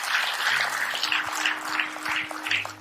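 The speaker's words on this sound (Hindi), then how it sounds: "एक जोरदार तालियां होनी चाहिए।" An audience at a company sales presentation claps in bursts, with individual hand claps audible over a low steady hum, fairly close and lively.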